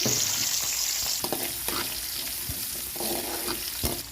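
Small onions and crushed garlic frying in oil for a sardine curry, a dense close sizzle with scattered stirring clicks and scrapes, no voices over it.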